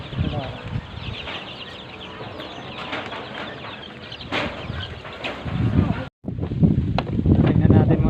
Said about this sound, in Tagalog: Ito yung manok.